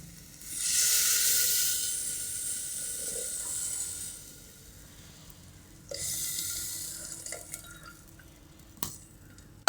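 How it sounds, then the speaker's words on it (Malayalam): Tamarind water poured into a hot curry pan bursts into a loud hiss and sizzle that fades over a few seconds, then a second pour brings another shorter hiss, with a couple of faint clinks near the end. "ഇനി ഇതിലോട്ട് പെട്ടെന്ന് തന്നെ നമുക്ക് പുളിവെള്ളം ചേർത്ത് കൊടുക്കാം."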